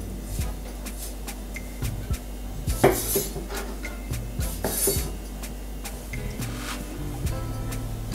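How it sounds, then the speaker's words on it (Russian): A knife cuts yellow tomatoes into small cubes on a cutting board for a salad, producing sharp, irregular tapping knocks over a quiet kitchen background, without speech. "Желтые помидоры тоже режем."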